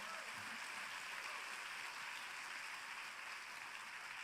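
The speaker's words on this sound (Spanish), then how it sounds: "Dale un fuerte aplauso al Señor." A church congregation applauds during a service, making a steady, dense wash of clapping that stays faint and distant throughout, with no voices standing out.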